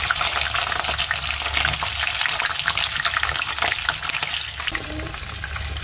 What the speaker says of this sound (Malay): minyak dah panas, kita dah boleh goreng udang